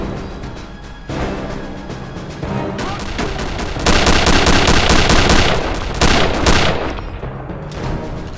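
Weapon fire in the shooter Return to Castle Wolfenstein: loud, rapid automatic bursts that run almost continuously, thickening into heavier booming volleys with brief gaps between them.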